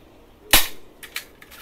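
A toy shotgun fires with one sharp, loud cap-gun crack, followed by a few quieter mechanical clicks and snaps from the toy's action, close up with no talking.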